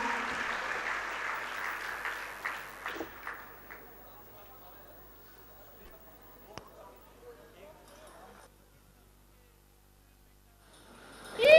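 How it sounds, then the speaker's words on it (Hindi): Audience at a stage play event claps to welcome a performing group, a brief burst of clapping fading out within a few seconds into near silence, followed by a faint thump and a sudden sound at the end. "एक बार जोरदार तालियों से स्वागत कीजिए।"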